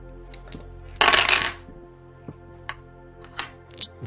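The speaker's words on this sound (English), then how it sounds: "as I hear multiple dice rolling on the table" Several dice rolling on a table during a Dungeons and Dragons game, a sharp clattering burst followed by a few scattered lighter ticks as they settle, with a faint steady hum underneath.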